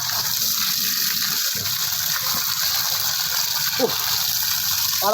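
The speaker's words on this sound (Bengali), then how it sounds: "তারপরে নোংরা বের হচ্ছে দেখো এই জলটা দেখো" Dirty water gushes and pours steadily while a quilt is washed by hand outdoors, a continuous close splashing flow with a brief dip midway and no clear talk over it.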